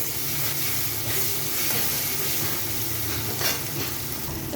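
Onion and garlic paste frying in a pan for a spicy crab curry, a steady dense sizzle and hiss with soft stirring, close and continuous with no talking.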